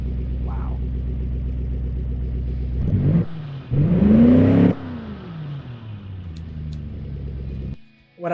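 A massive 7-liter triple-carburetor engine rumbles at a shaky idle, then revs hard in a loud, rising burst before settling back to a lumpy burble, close and alone.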